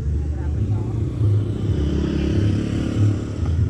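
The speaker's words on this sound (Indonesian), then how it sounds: "barusan ada motor lewat." A motorcycle rides past outdoors, its engine a steady low drone that swells slightly as it goes by, heard at moderate distance.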